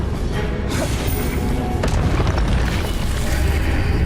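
Hogwarts Legacy Confringo spell explosions, a sustained loud booming roar with dull thuds and rumbling layered throughout, steady and close with no voices on top.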